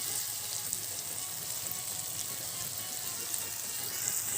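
Dried bamboo shoots cook in a pan that has just been uncovered and stirred. A moderate, even sizzle hisses continuously, with no talk.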